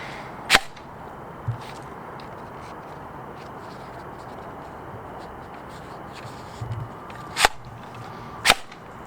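A Nerf Elite Demolisher 2-in-1 blaster fires darts outdoors, giving three sharp, snappy pops spread across the stretch over a steady background hiss, along with a couple of fainter knocks and no talk.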